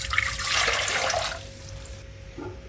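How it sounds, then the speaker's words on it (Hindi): Water pours into a cooking pot for egg biryani, a loud splashing gush for over a second that then cuts off, leaving a few faint drips and clinks. "अब इसके अंदर डाल देंगे पानी।"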